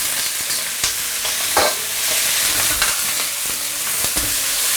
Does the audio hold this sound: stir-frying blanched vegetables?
yes